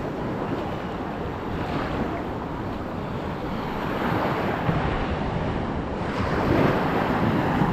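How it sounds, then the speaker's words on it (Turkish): Sea waves break on rocks at a Sri Lankan beach: a steady, loud roar of surf with wind buffeting the microphone, swelling slightly toward the end, with no voices. "Burada kayalar dalgaları kesiyor."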